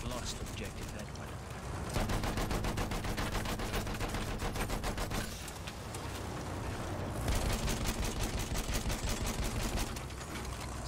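Video game gunfire in long rapid automatic bursts, dense and rattling, running in two extended stretches with a brief lull between, loud against a busy background.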